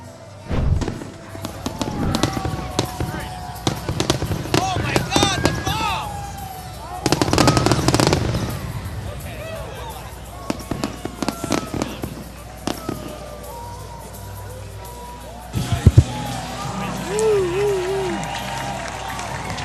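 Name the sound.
post-game fireworks show at Campanelli Stadium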